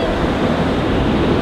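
Sea waves wash steadily onto a beach in a dense, continuous roar of surf, loud and close, with some wind rumble and no clear breaks.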